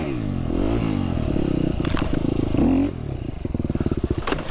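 A KTM dirt bike engine on a soaked single-track trail, close and loud, droning and revving unevenly with brief throttle blips and bogging, ending in choppy pulsing as it labors over the wet ground.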